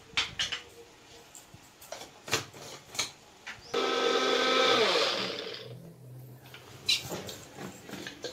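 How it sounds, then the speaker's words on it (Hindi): An electric kitchen grinder whirs at full speed for about two seconds while it grinds paneer stuffing with salt and garam masala. Before and after come light clatters and knocks of handling the jar. "अब हमें इसे ग्राइंड कर लेना है।"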